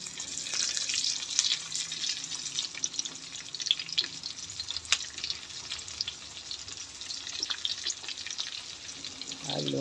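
Sliced onions sizzle in a pan of chicken sinampalukan, a steady soft frying hiss with faint crackles, moderately close and with no voices.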